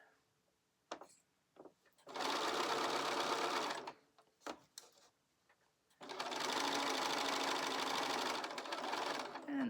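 A sewing machine stitches a seam in minky fabric for an infinity scarf, two sustained bursts of rapid, even whirring, each about two seconds long, close up, separated by brief clicks and handling sounds.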